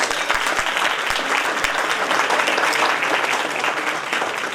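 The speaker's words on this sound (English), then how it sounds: "Let's give them a round of applause." Sustained round of applause from a crowd at a community holiday gathering, dense steady clapping filling the room throughout with no voices standing out.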